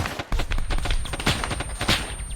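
Rapid rifle fire in ARMA 3 rattles loud and close as shots hit a wall just ahead, a dense burst of overlapping reports filling the short span.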